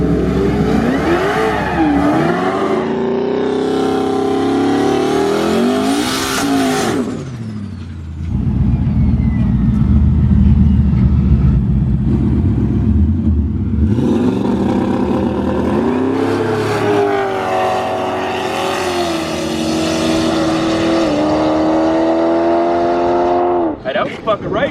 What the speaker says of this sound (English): We'll let them do their burnouts and see how it goes.